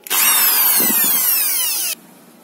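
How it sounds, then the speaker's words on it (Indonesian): Power drill boring out a damaged, stripped screw thread before tapping for a thread-repair insert: a loud, steady whine with the motor pitch falling slowly, running for about two seconds and then cutting off abruptly. "untuk langkah pertama kita akan bor dulu"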